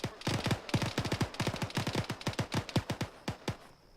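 Rapid bursts of gunfire crack through a close-quarters battle training exercise around a building, shots coming in quick irregular volleys close by, loud and sustained across the whole stretch with no talking.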